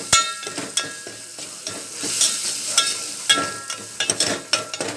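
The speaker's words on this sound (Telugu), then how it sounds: "పసుపు కలిపేసుకున్న తర్వాత పసుపు ఇట్లా కలిపేసుకోవాలి" Turmeric being stirred into a frying pan while cooking eggs, with a spoon scraping and clinking in a steady irregular rhythm over a soft, continuous sizzle, close and fairly quiet with no talking.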